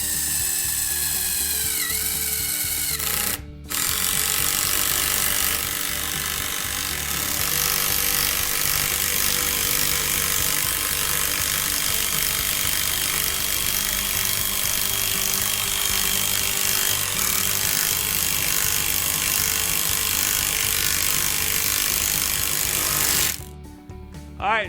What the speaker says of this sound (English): First, I'm going to use my impact from Ryobi.